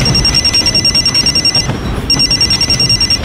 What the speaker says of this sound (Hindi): थोड़ी देर में मेरा फोन बजा।